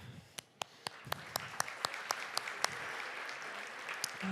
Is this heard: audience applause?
yes